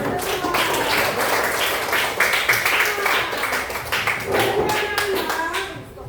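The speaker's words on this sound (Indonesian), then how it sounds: "Tepuk tangan." Children in a classroom clap their hands together in a brisk, sustained burst lasting several seconds, loud and close, with a teacher's voice and young voices mixed in.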